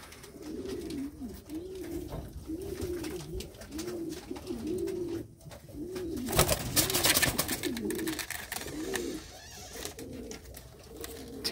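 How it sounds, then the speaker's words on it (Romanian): Pigeons coo close by in a yard, a run of repeated soft rolling coos one after another, with a brief rustling burst partway through and no one speaking. "După ce porumbei frumoși."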